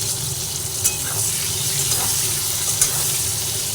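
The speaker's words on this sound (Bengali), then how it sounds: "বেগুনটাও দিয়ে দেওয়ার পরেও একই সঙ্গে সব ভেজে নিচ্ছি" Potato, pointed gourd and eggplant fry together in a pan with oil, giving a steady, close, loud sizzle that runs throughout, with a few faint stirring clicks and no talk.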